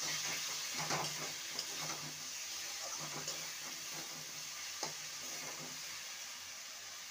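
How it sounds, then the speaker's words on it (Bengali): Spicy masala with a pinch of garam masala powder is stirred in a pan, a soft steady sizzle with a few faint scraping strokes of the spoon, quiet and close, with no talking. "গরম মশলার গুঁড়ো দিয়ে ভালো করে নেড়ে নেব।"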